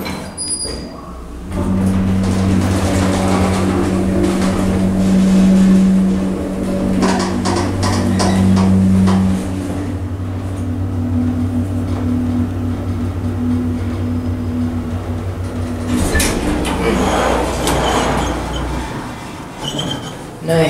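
Westinghouse hydraulic elevator motor at Tahoe Hall, Sacramento State, running as a steady low hum with a sustained tonal drone, loud and continuous for about fifteen seconds before shifting as the cab settles near the end.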